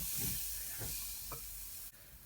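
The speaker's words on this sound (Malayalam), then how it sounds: "തേങ്ങ വറുത്തെടുക്കാം" Grated coconut roasts over a very low flame in a pan, giving a soft steady sizzle and hiss with a few faint stirring scrapes and a small knock, quiet and close.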